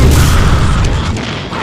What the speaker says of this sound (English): Boom! Michael Bay explosion!